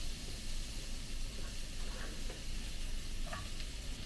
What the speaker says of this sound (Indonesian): kalau minyaknya udah panas, sekarang kita masukin di sini daun bawang